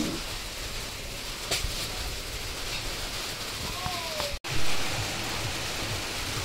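Steady rain hisses across the whole stretch, an even broadband wash with a brief dropout near the end, no voices in the clip.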